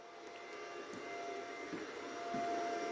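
A CNC router spindle runs with a steady high electric whine and hum, fairly faint and constant, with soft mechanical clicks under it and no voices.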